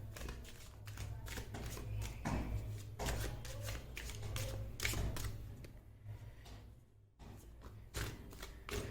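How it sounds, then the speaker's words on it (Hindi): A deck of tarot cards is shuffled up close, giving rapid papery riffles and soft taps in quick bursts, a brief lull near the end before the shuffling resumes. "मैं आपके सामने ही गाइस कार्ड शफल करूंगी"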